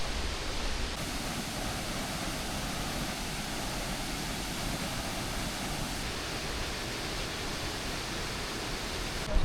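Waterfall in a gorge near Lake Bled, Slovenia, pouring with a loud, steady roar of rushing water that holds unbroken and close throughout, with no voices.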